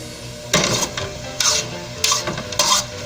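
Vegetable lumpia filling stirred and fried in a pan on high heat, with four or five scraping, rasping stir strokes over a low background sizzle, close and fairly loud.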